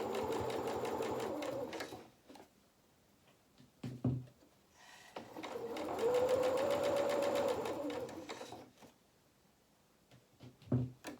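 Sewing machine stitching fabric around the body and limbs of a soft toy cat, running in steady bursts of rapid whirring with short pauses and clunks between as the presser foot lifts and the work pivots.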